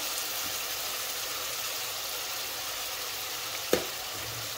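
Onions frying with salt for mrigel fish bhuna hiss in a steady, close sizzle, with one short sharp knock of a stirring spoon partway through and no voices.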